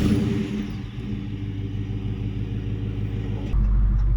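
The 5.7 HEMI V8 of a 2022 Dodge Charger Daytona runs with a steady, loud, close low rumble that swells a little heavier near the end.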